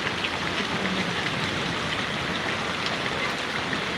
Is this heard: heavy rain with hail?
yes